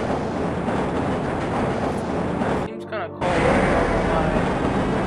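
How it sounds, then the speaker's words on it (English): A Black Mesa tram train rolling along in the Half-Life video game, a loud continuous rumbling hum with a brief dip partway through, while an announcer voice speaks over it. "This train is inbound from Level 3 dormitories to Sector C test labs and control facilities."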